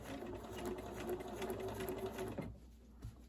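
Sewing machine stitching a quilt block pillow cover, a steady close whirring hum that runs continuously, then stops abruptly near the end.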